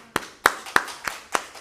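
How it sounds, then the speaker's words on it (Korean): A church congregation gives a short burst of applause, heard as five sharp, evenly spaced claps over under two seconds with no talking. "박수 한번 해줘야 돼요"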